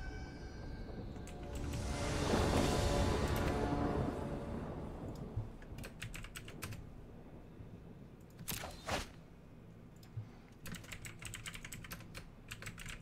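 Computer keyboard typing: a loud rush of noise early on, then scattered bursts of key clicks, near and clear with no talk.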